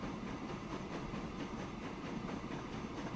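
A passenger train carrying 64 people runs steadily through the Transport Fever: America game world, its rumble and rail clatter continuous and moderately close, with no talk over it.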